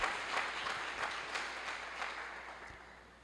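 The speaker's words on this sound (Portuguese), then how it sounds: "Vamos aplaudir ao Senhor" A church congregation claps in worship, a faint, fairly sparse patter with a few louder individual claps standing out, gradually fading.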